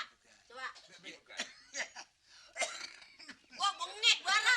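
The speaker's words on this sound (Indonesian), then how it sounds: "Kenapa ini pakai batuk-batuk?" Someone coughs repeatedly in short, harsh bursts mixed with throat clearing and chuckling at a bar counter, close and loud amid lively talking.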